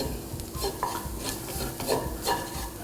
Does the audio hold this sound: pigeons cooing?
no